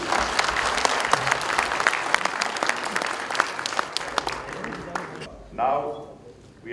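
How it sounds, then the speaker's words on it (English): A conference audience at a technical session claps for a keynote speaker in steady, fairly close applause, which ends abruptly and is followed by a brief spoken voice. "how about a round of applause for Fashwan Wu?"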